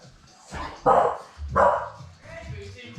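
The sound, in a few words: dog barking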